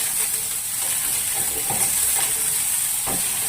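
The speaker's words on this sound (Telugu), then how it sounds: "ఇవి మనం ఫ్రై చేసుకుందాము" Vegetables for Maggi noodles fry in a pan with a steady, close sizzle and hiss, broken by a few soft stirring scrapes, with no talking.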